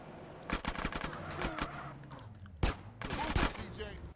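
Gunfire in GTA: San Andreas, a rapid run of sharp shots in clustered bursts, then a louder blast and more shots toward the end, with a voice talking under the game.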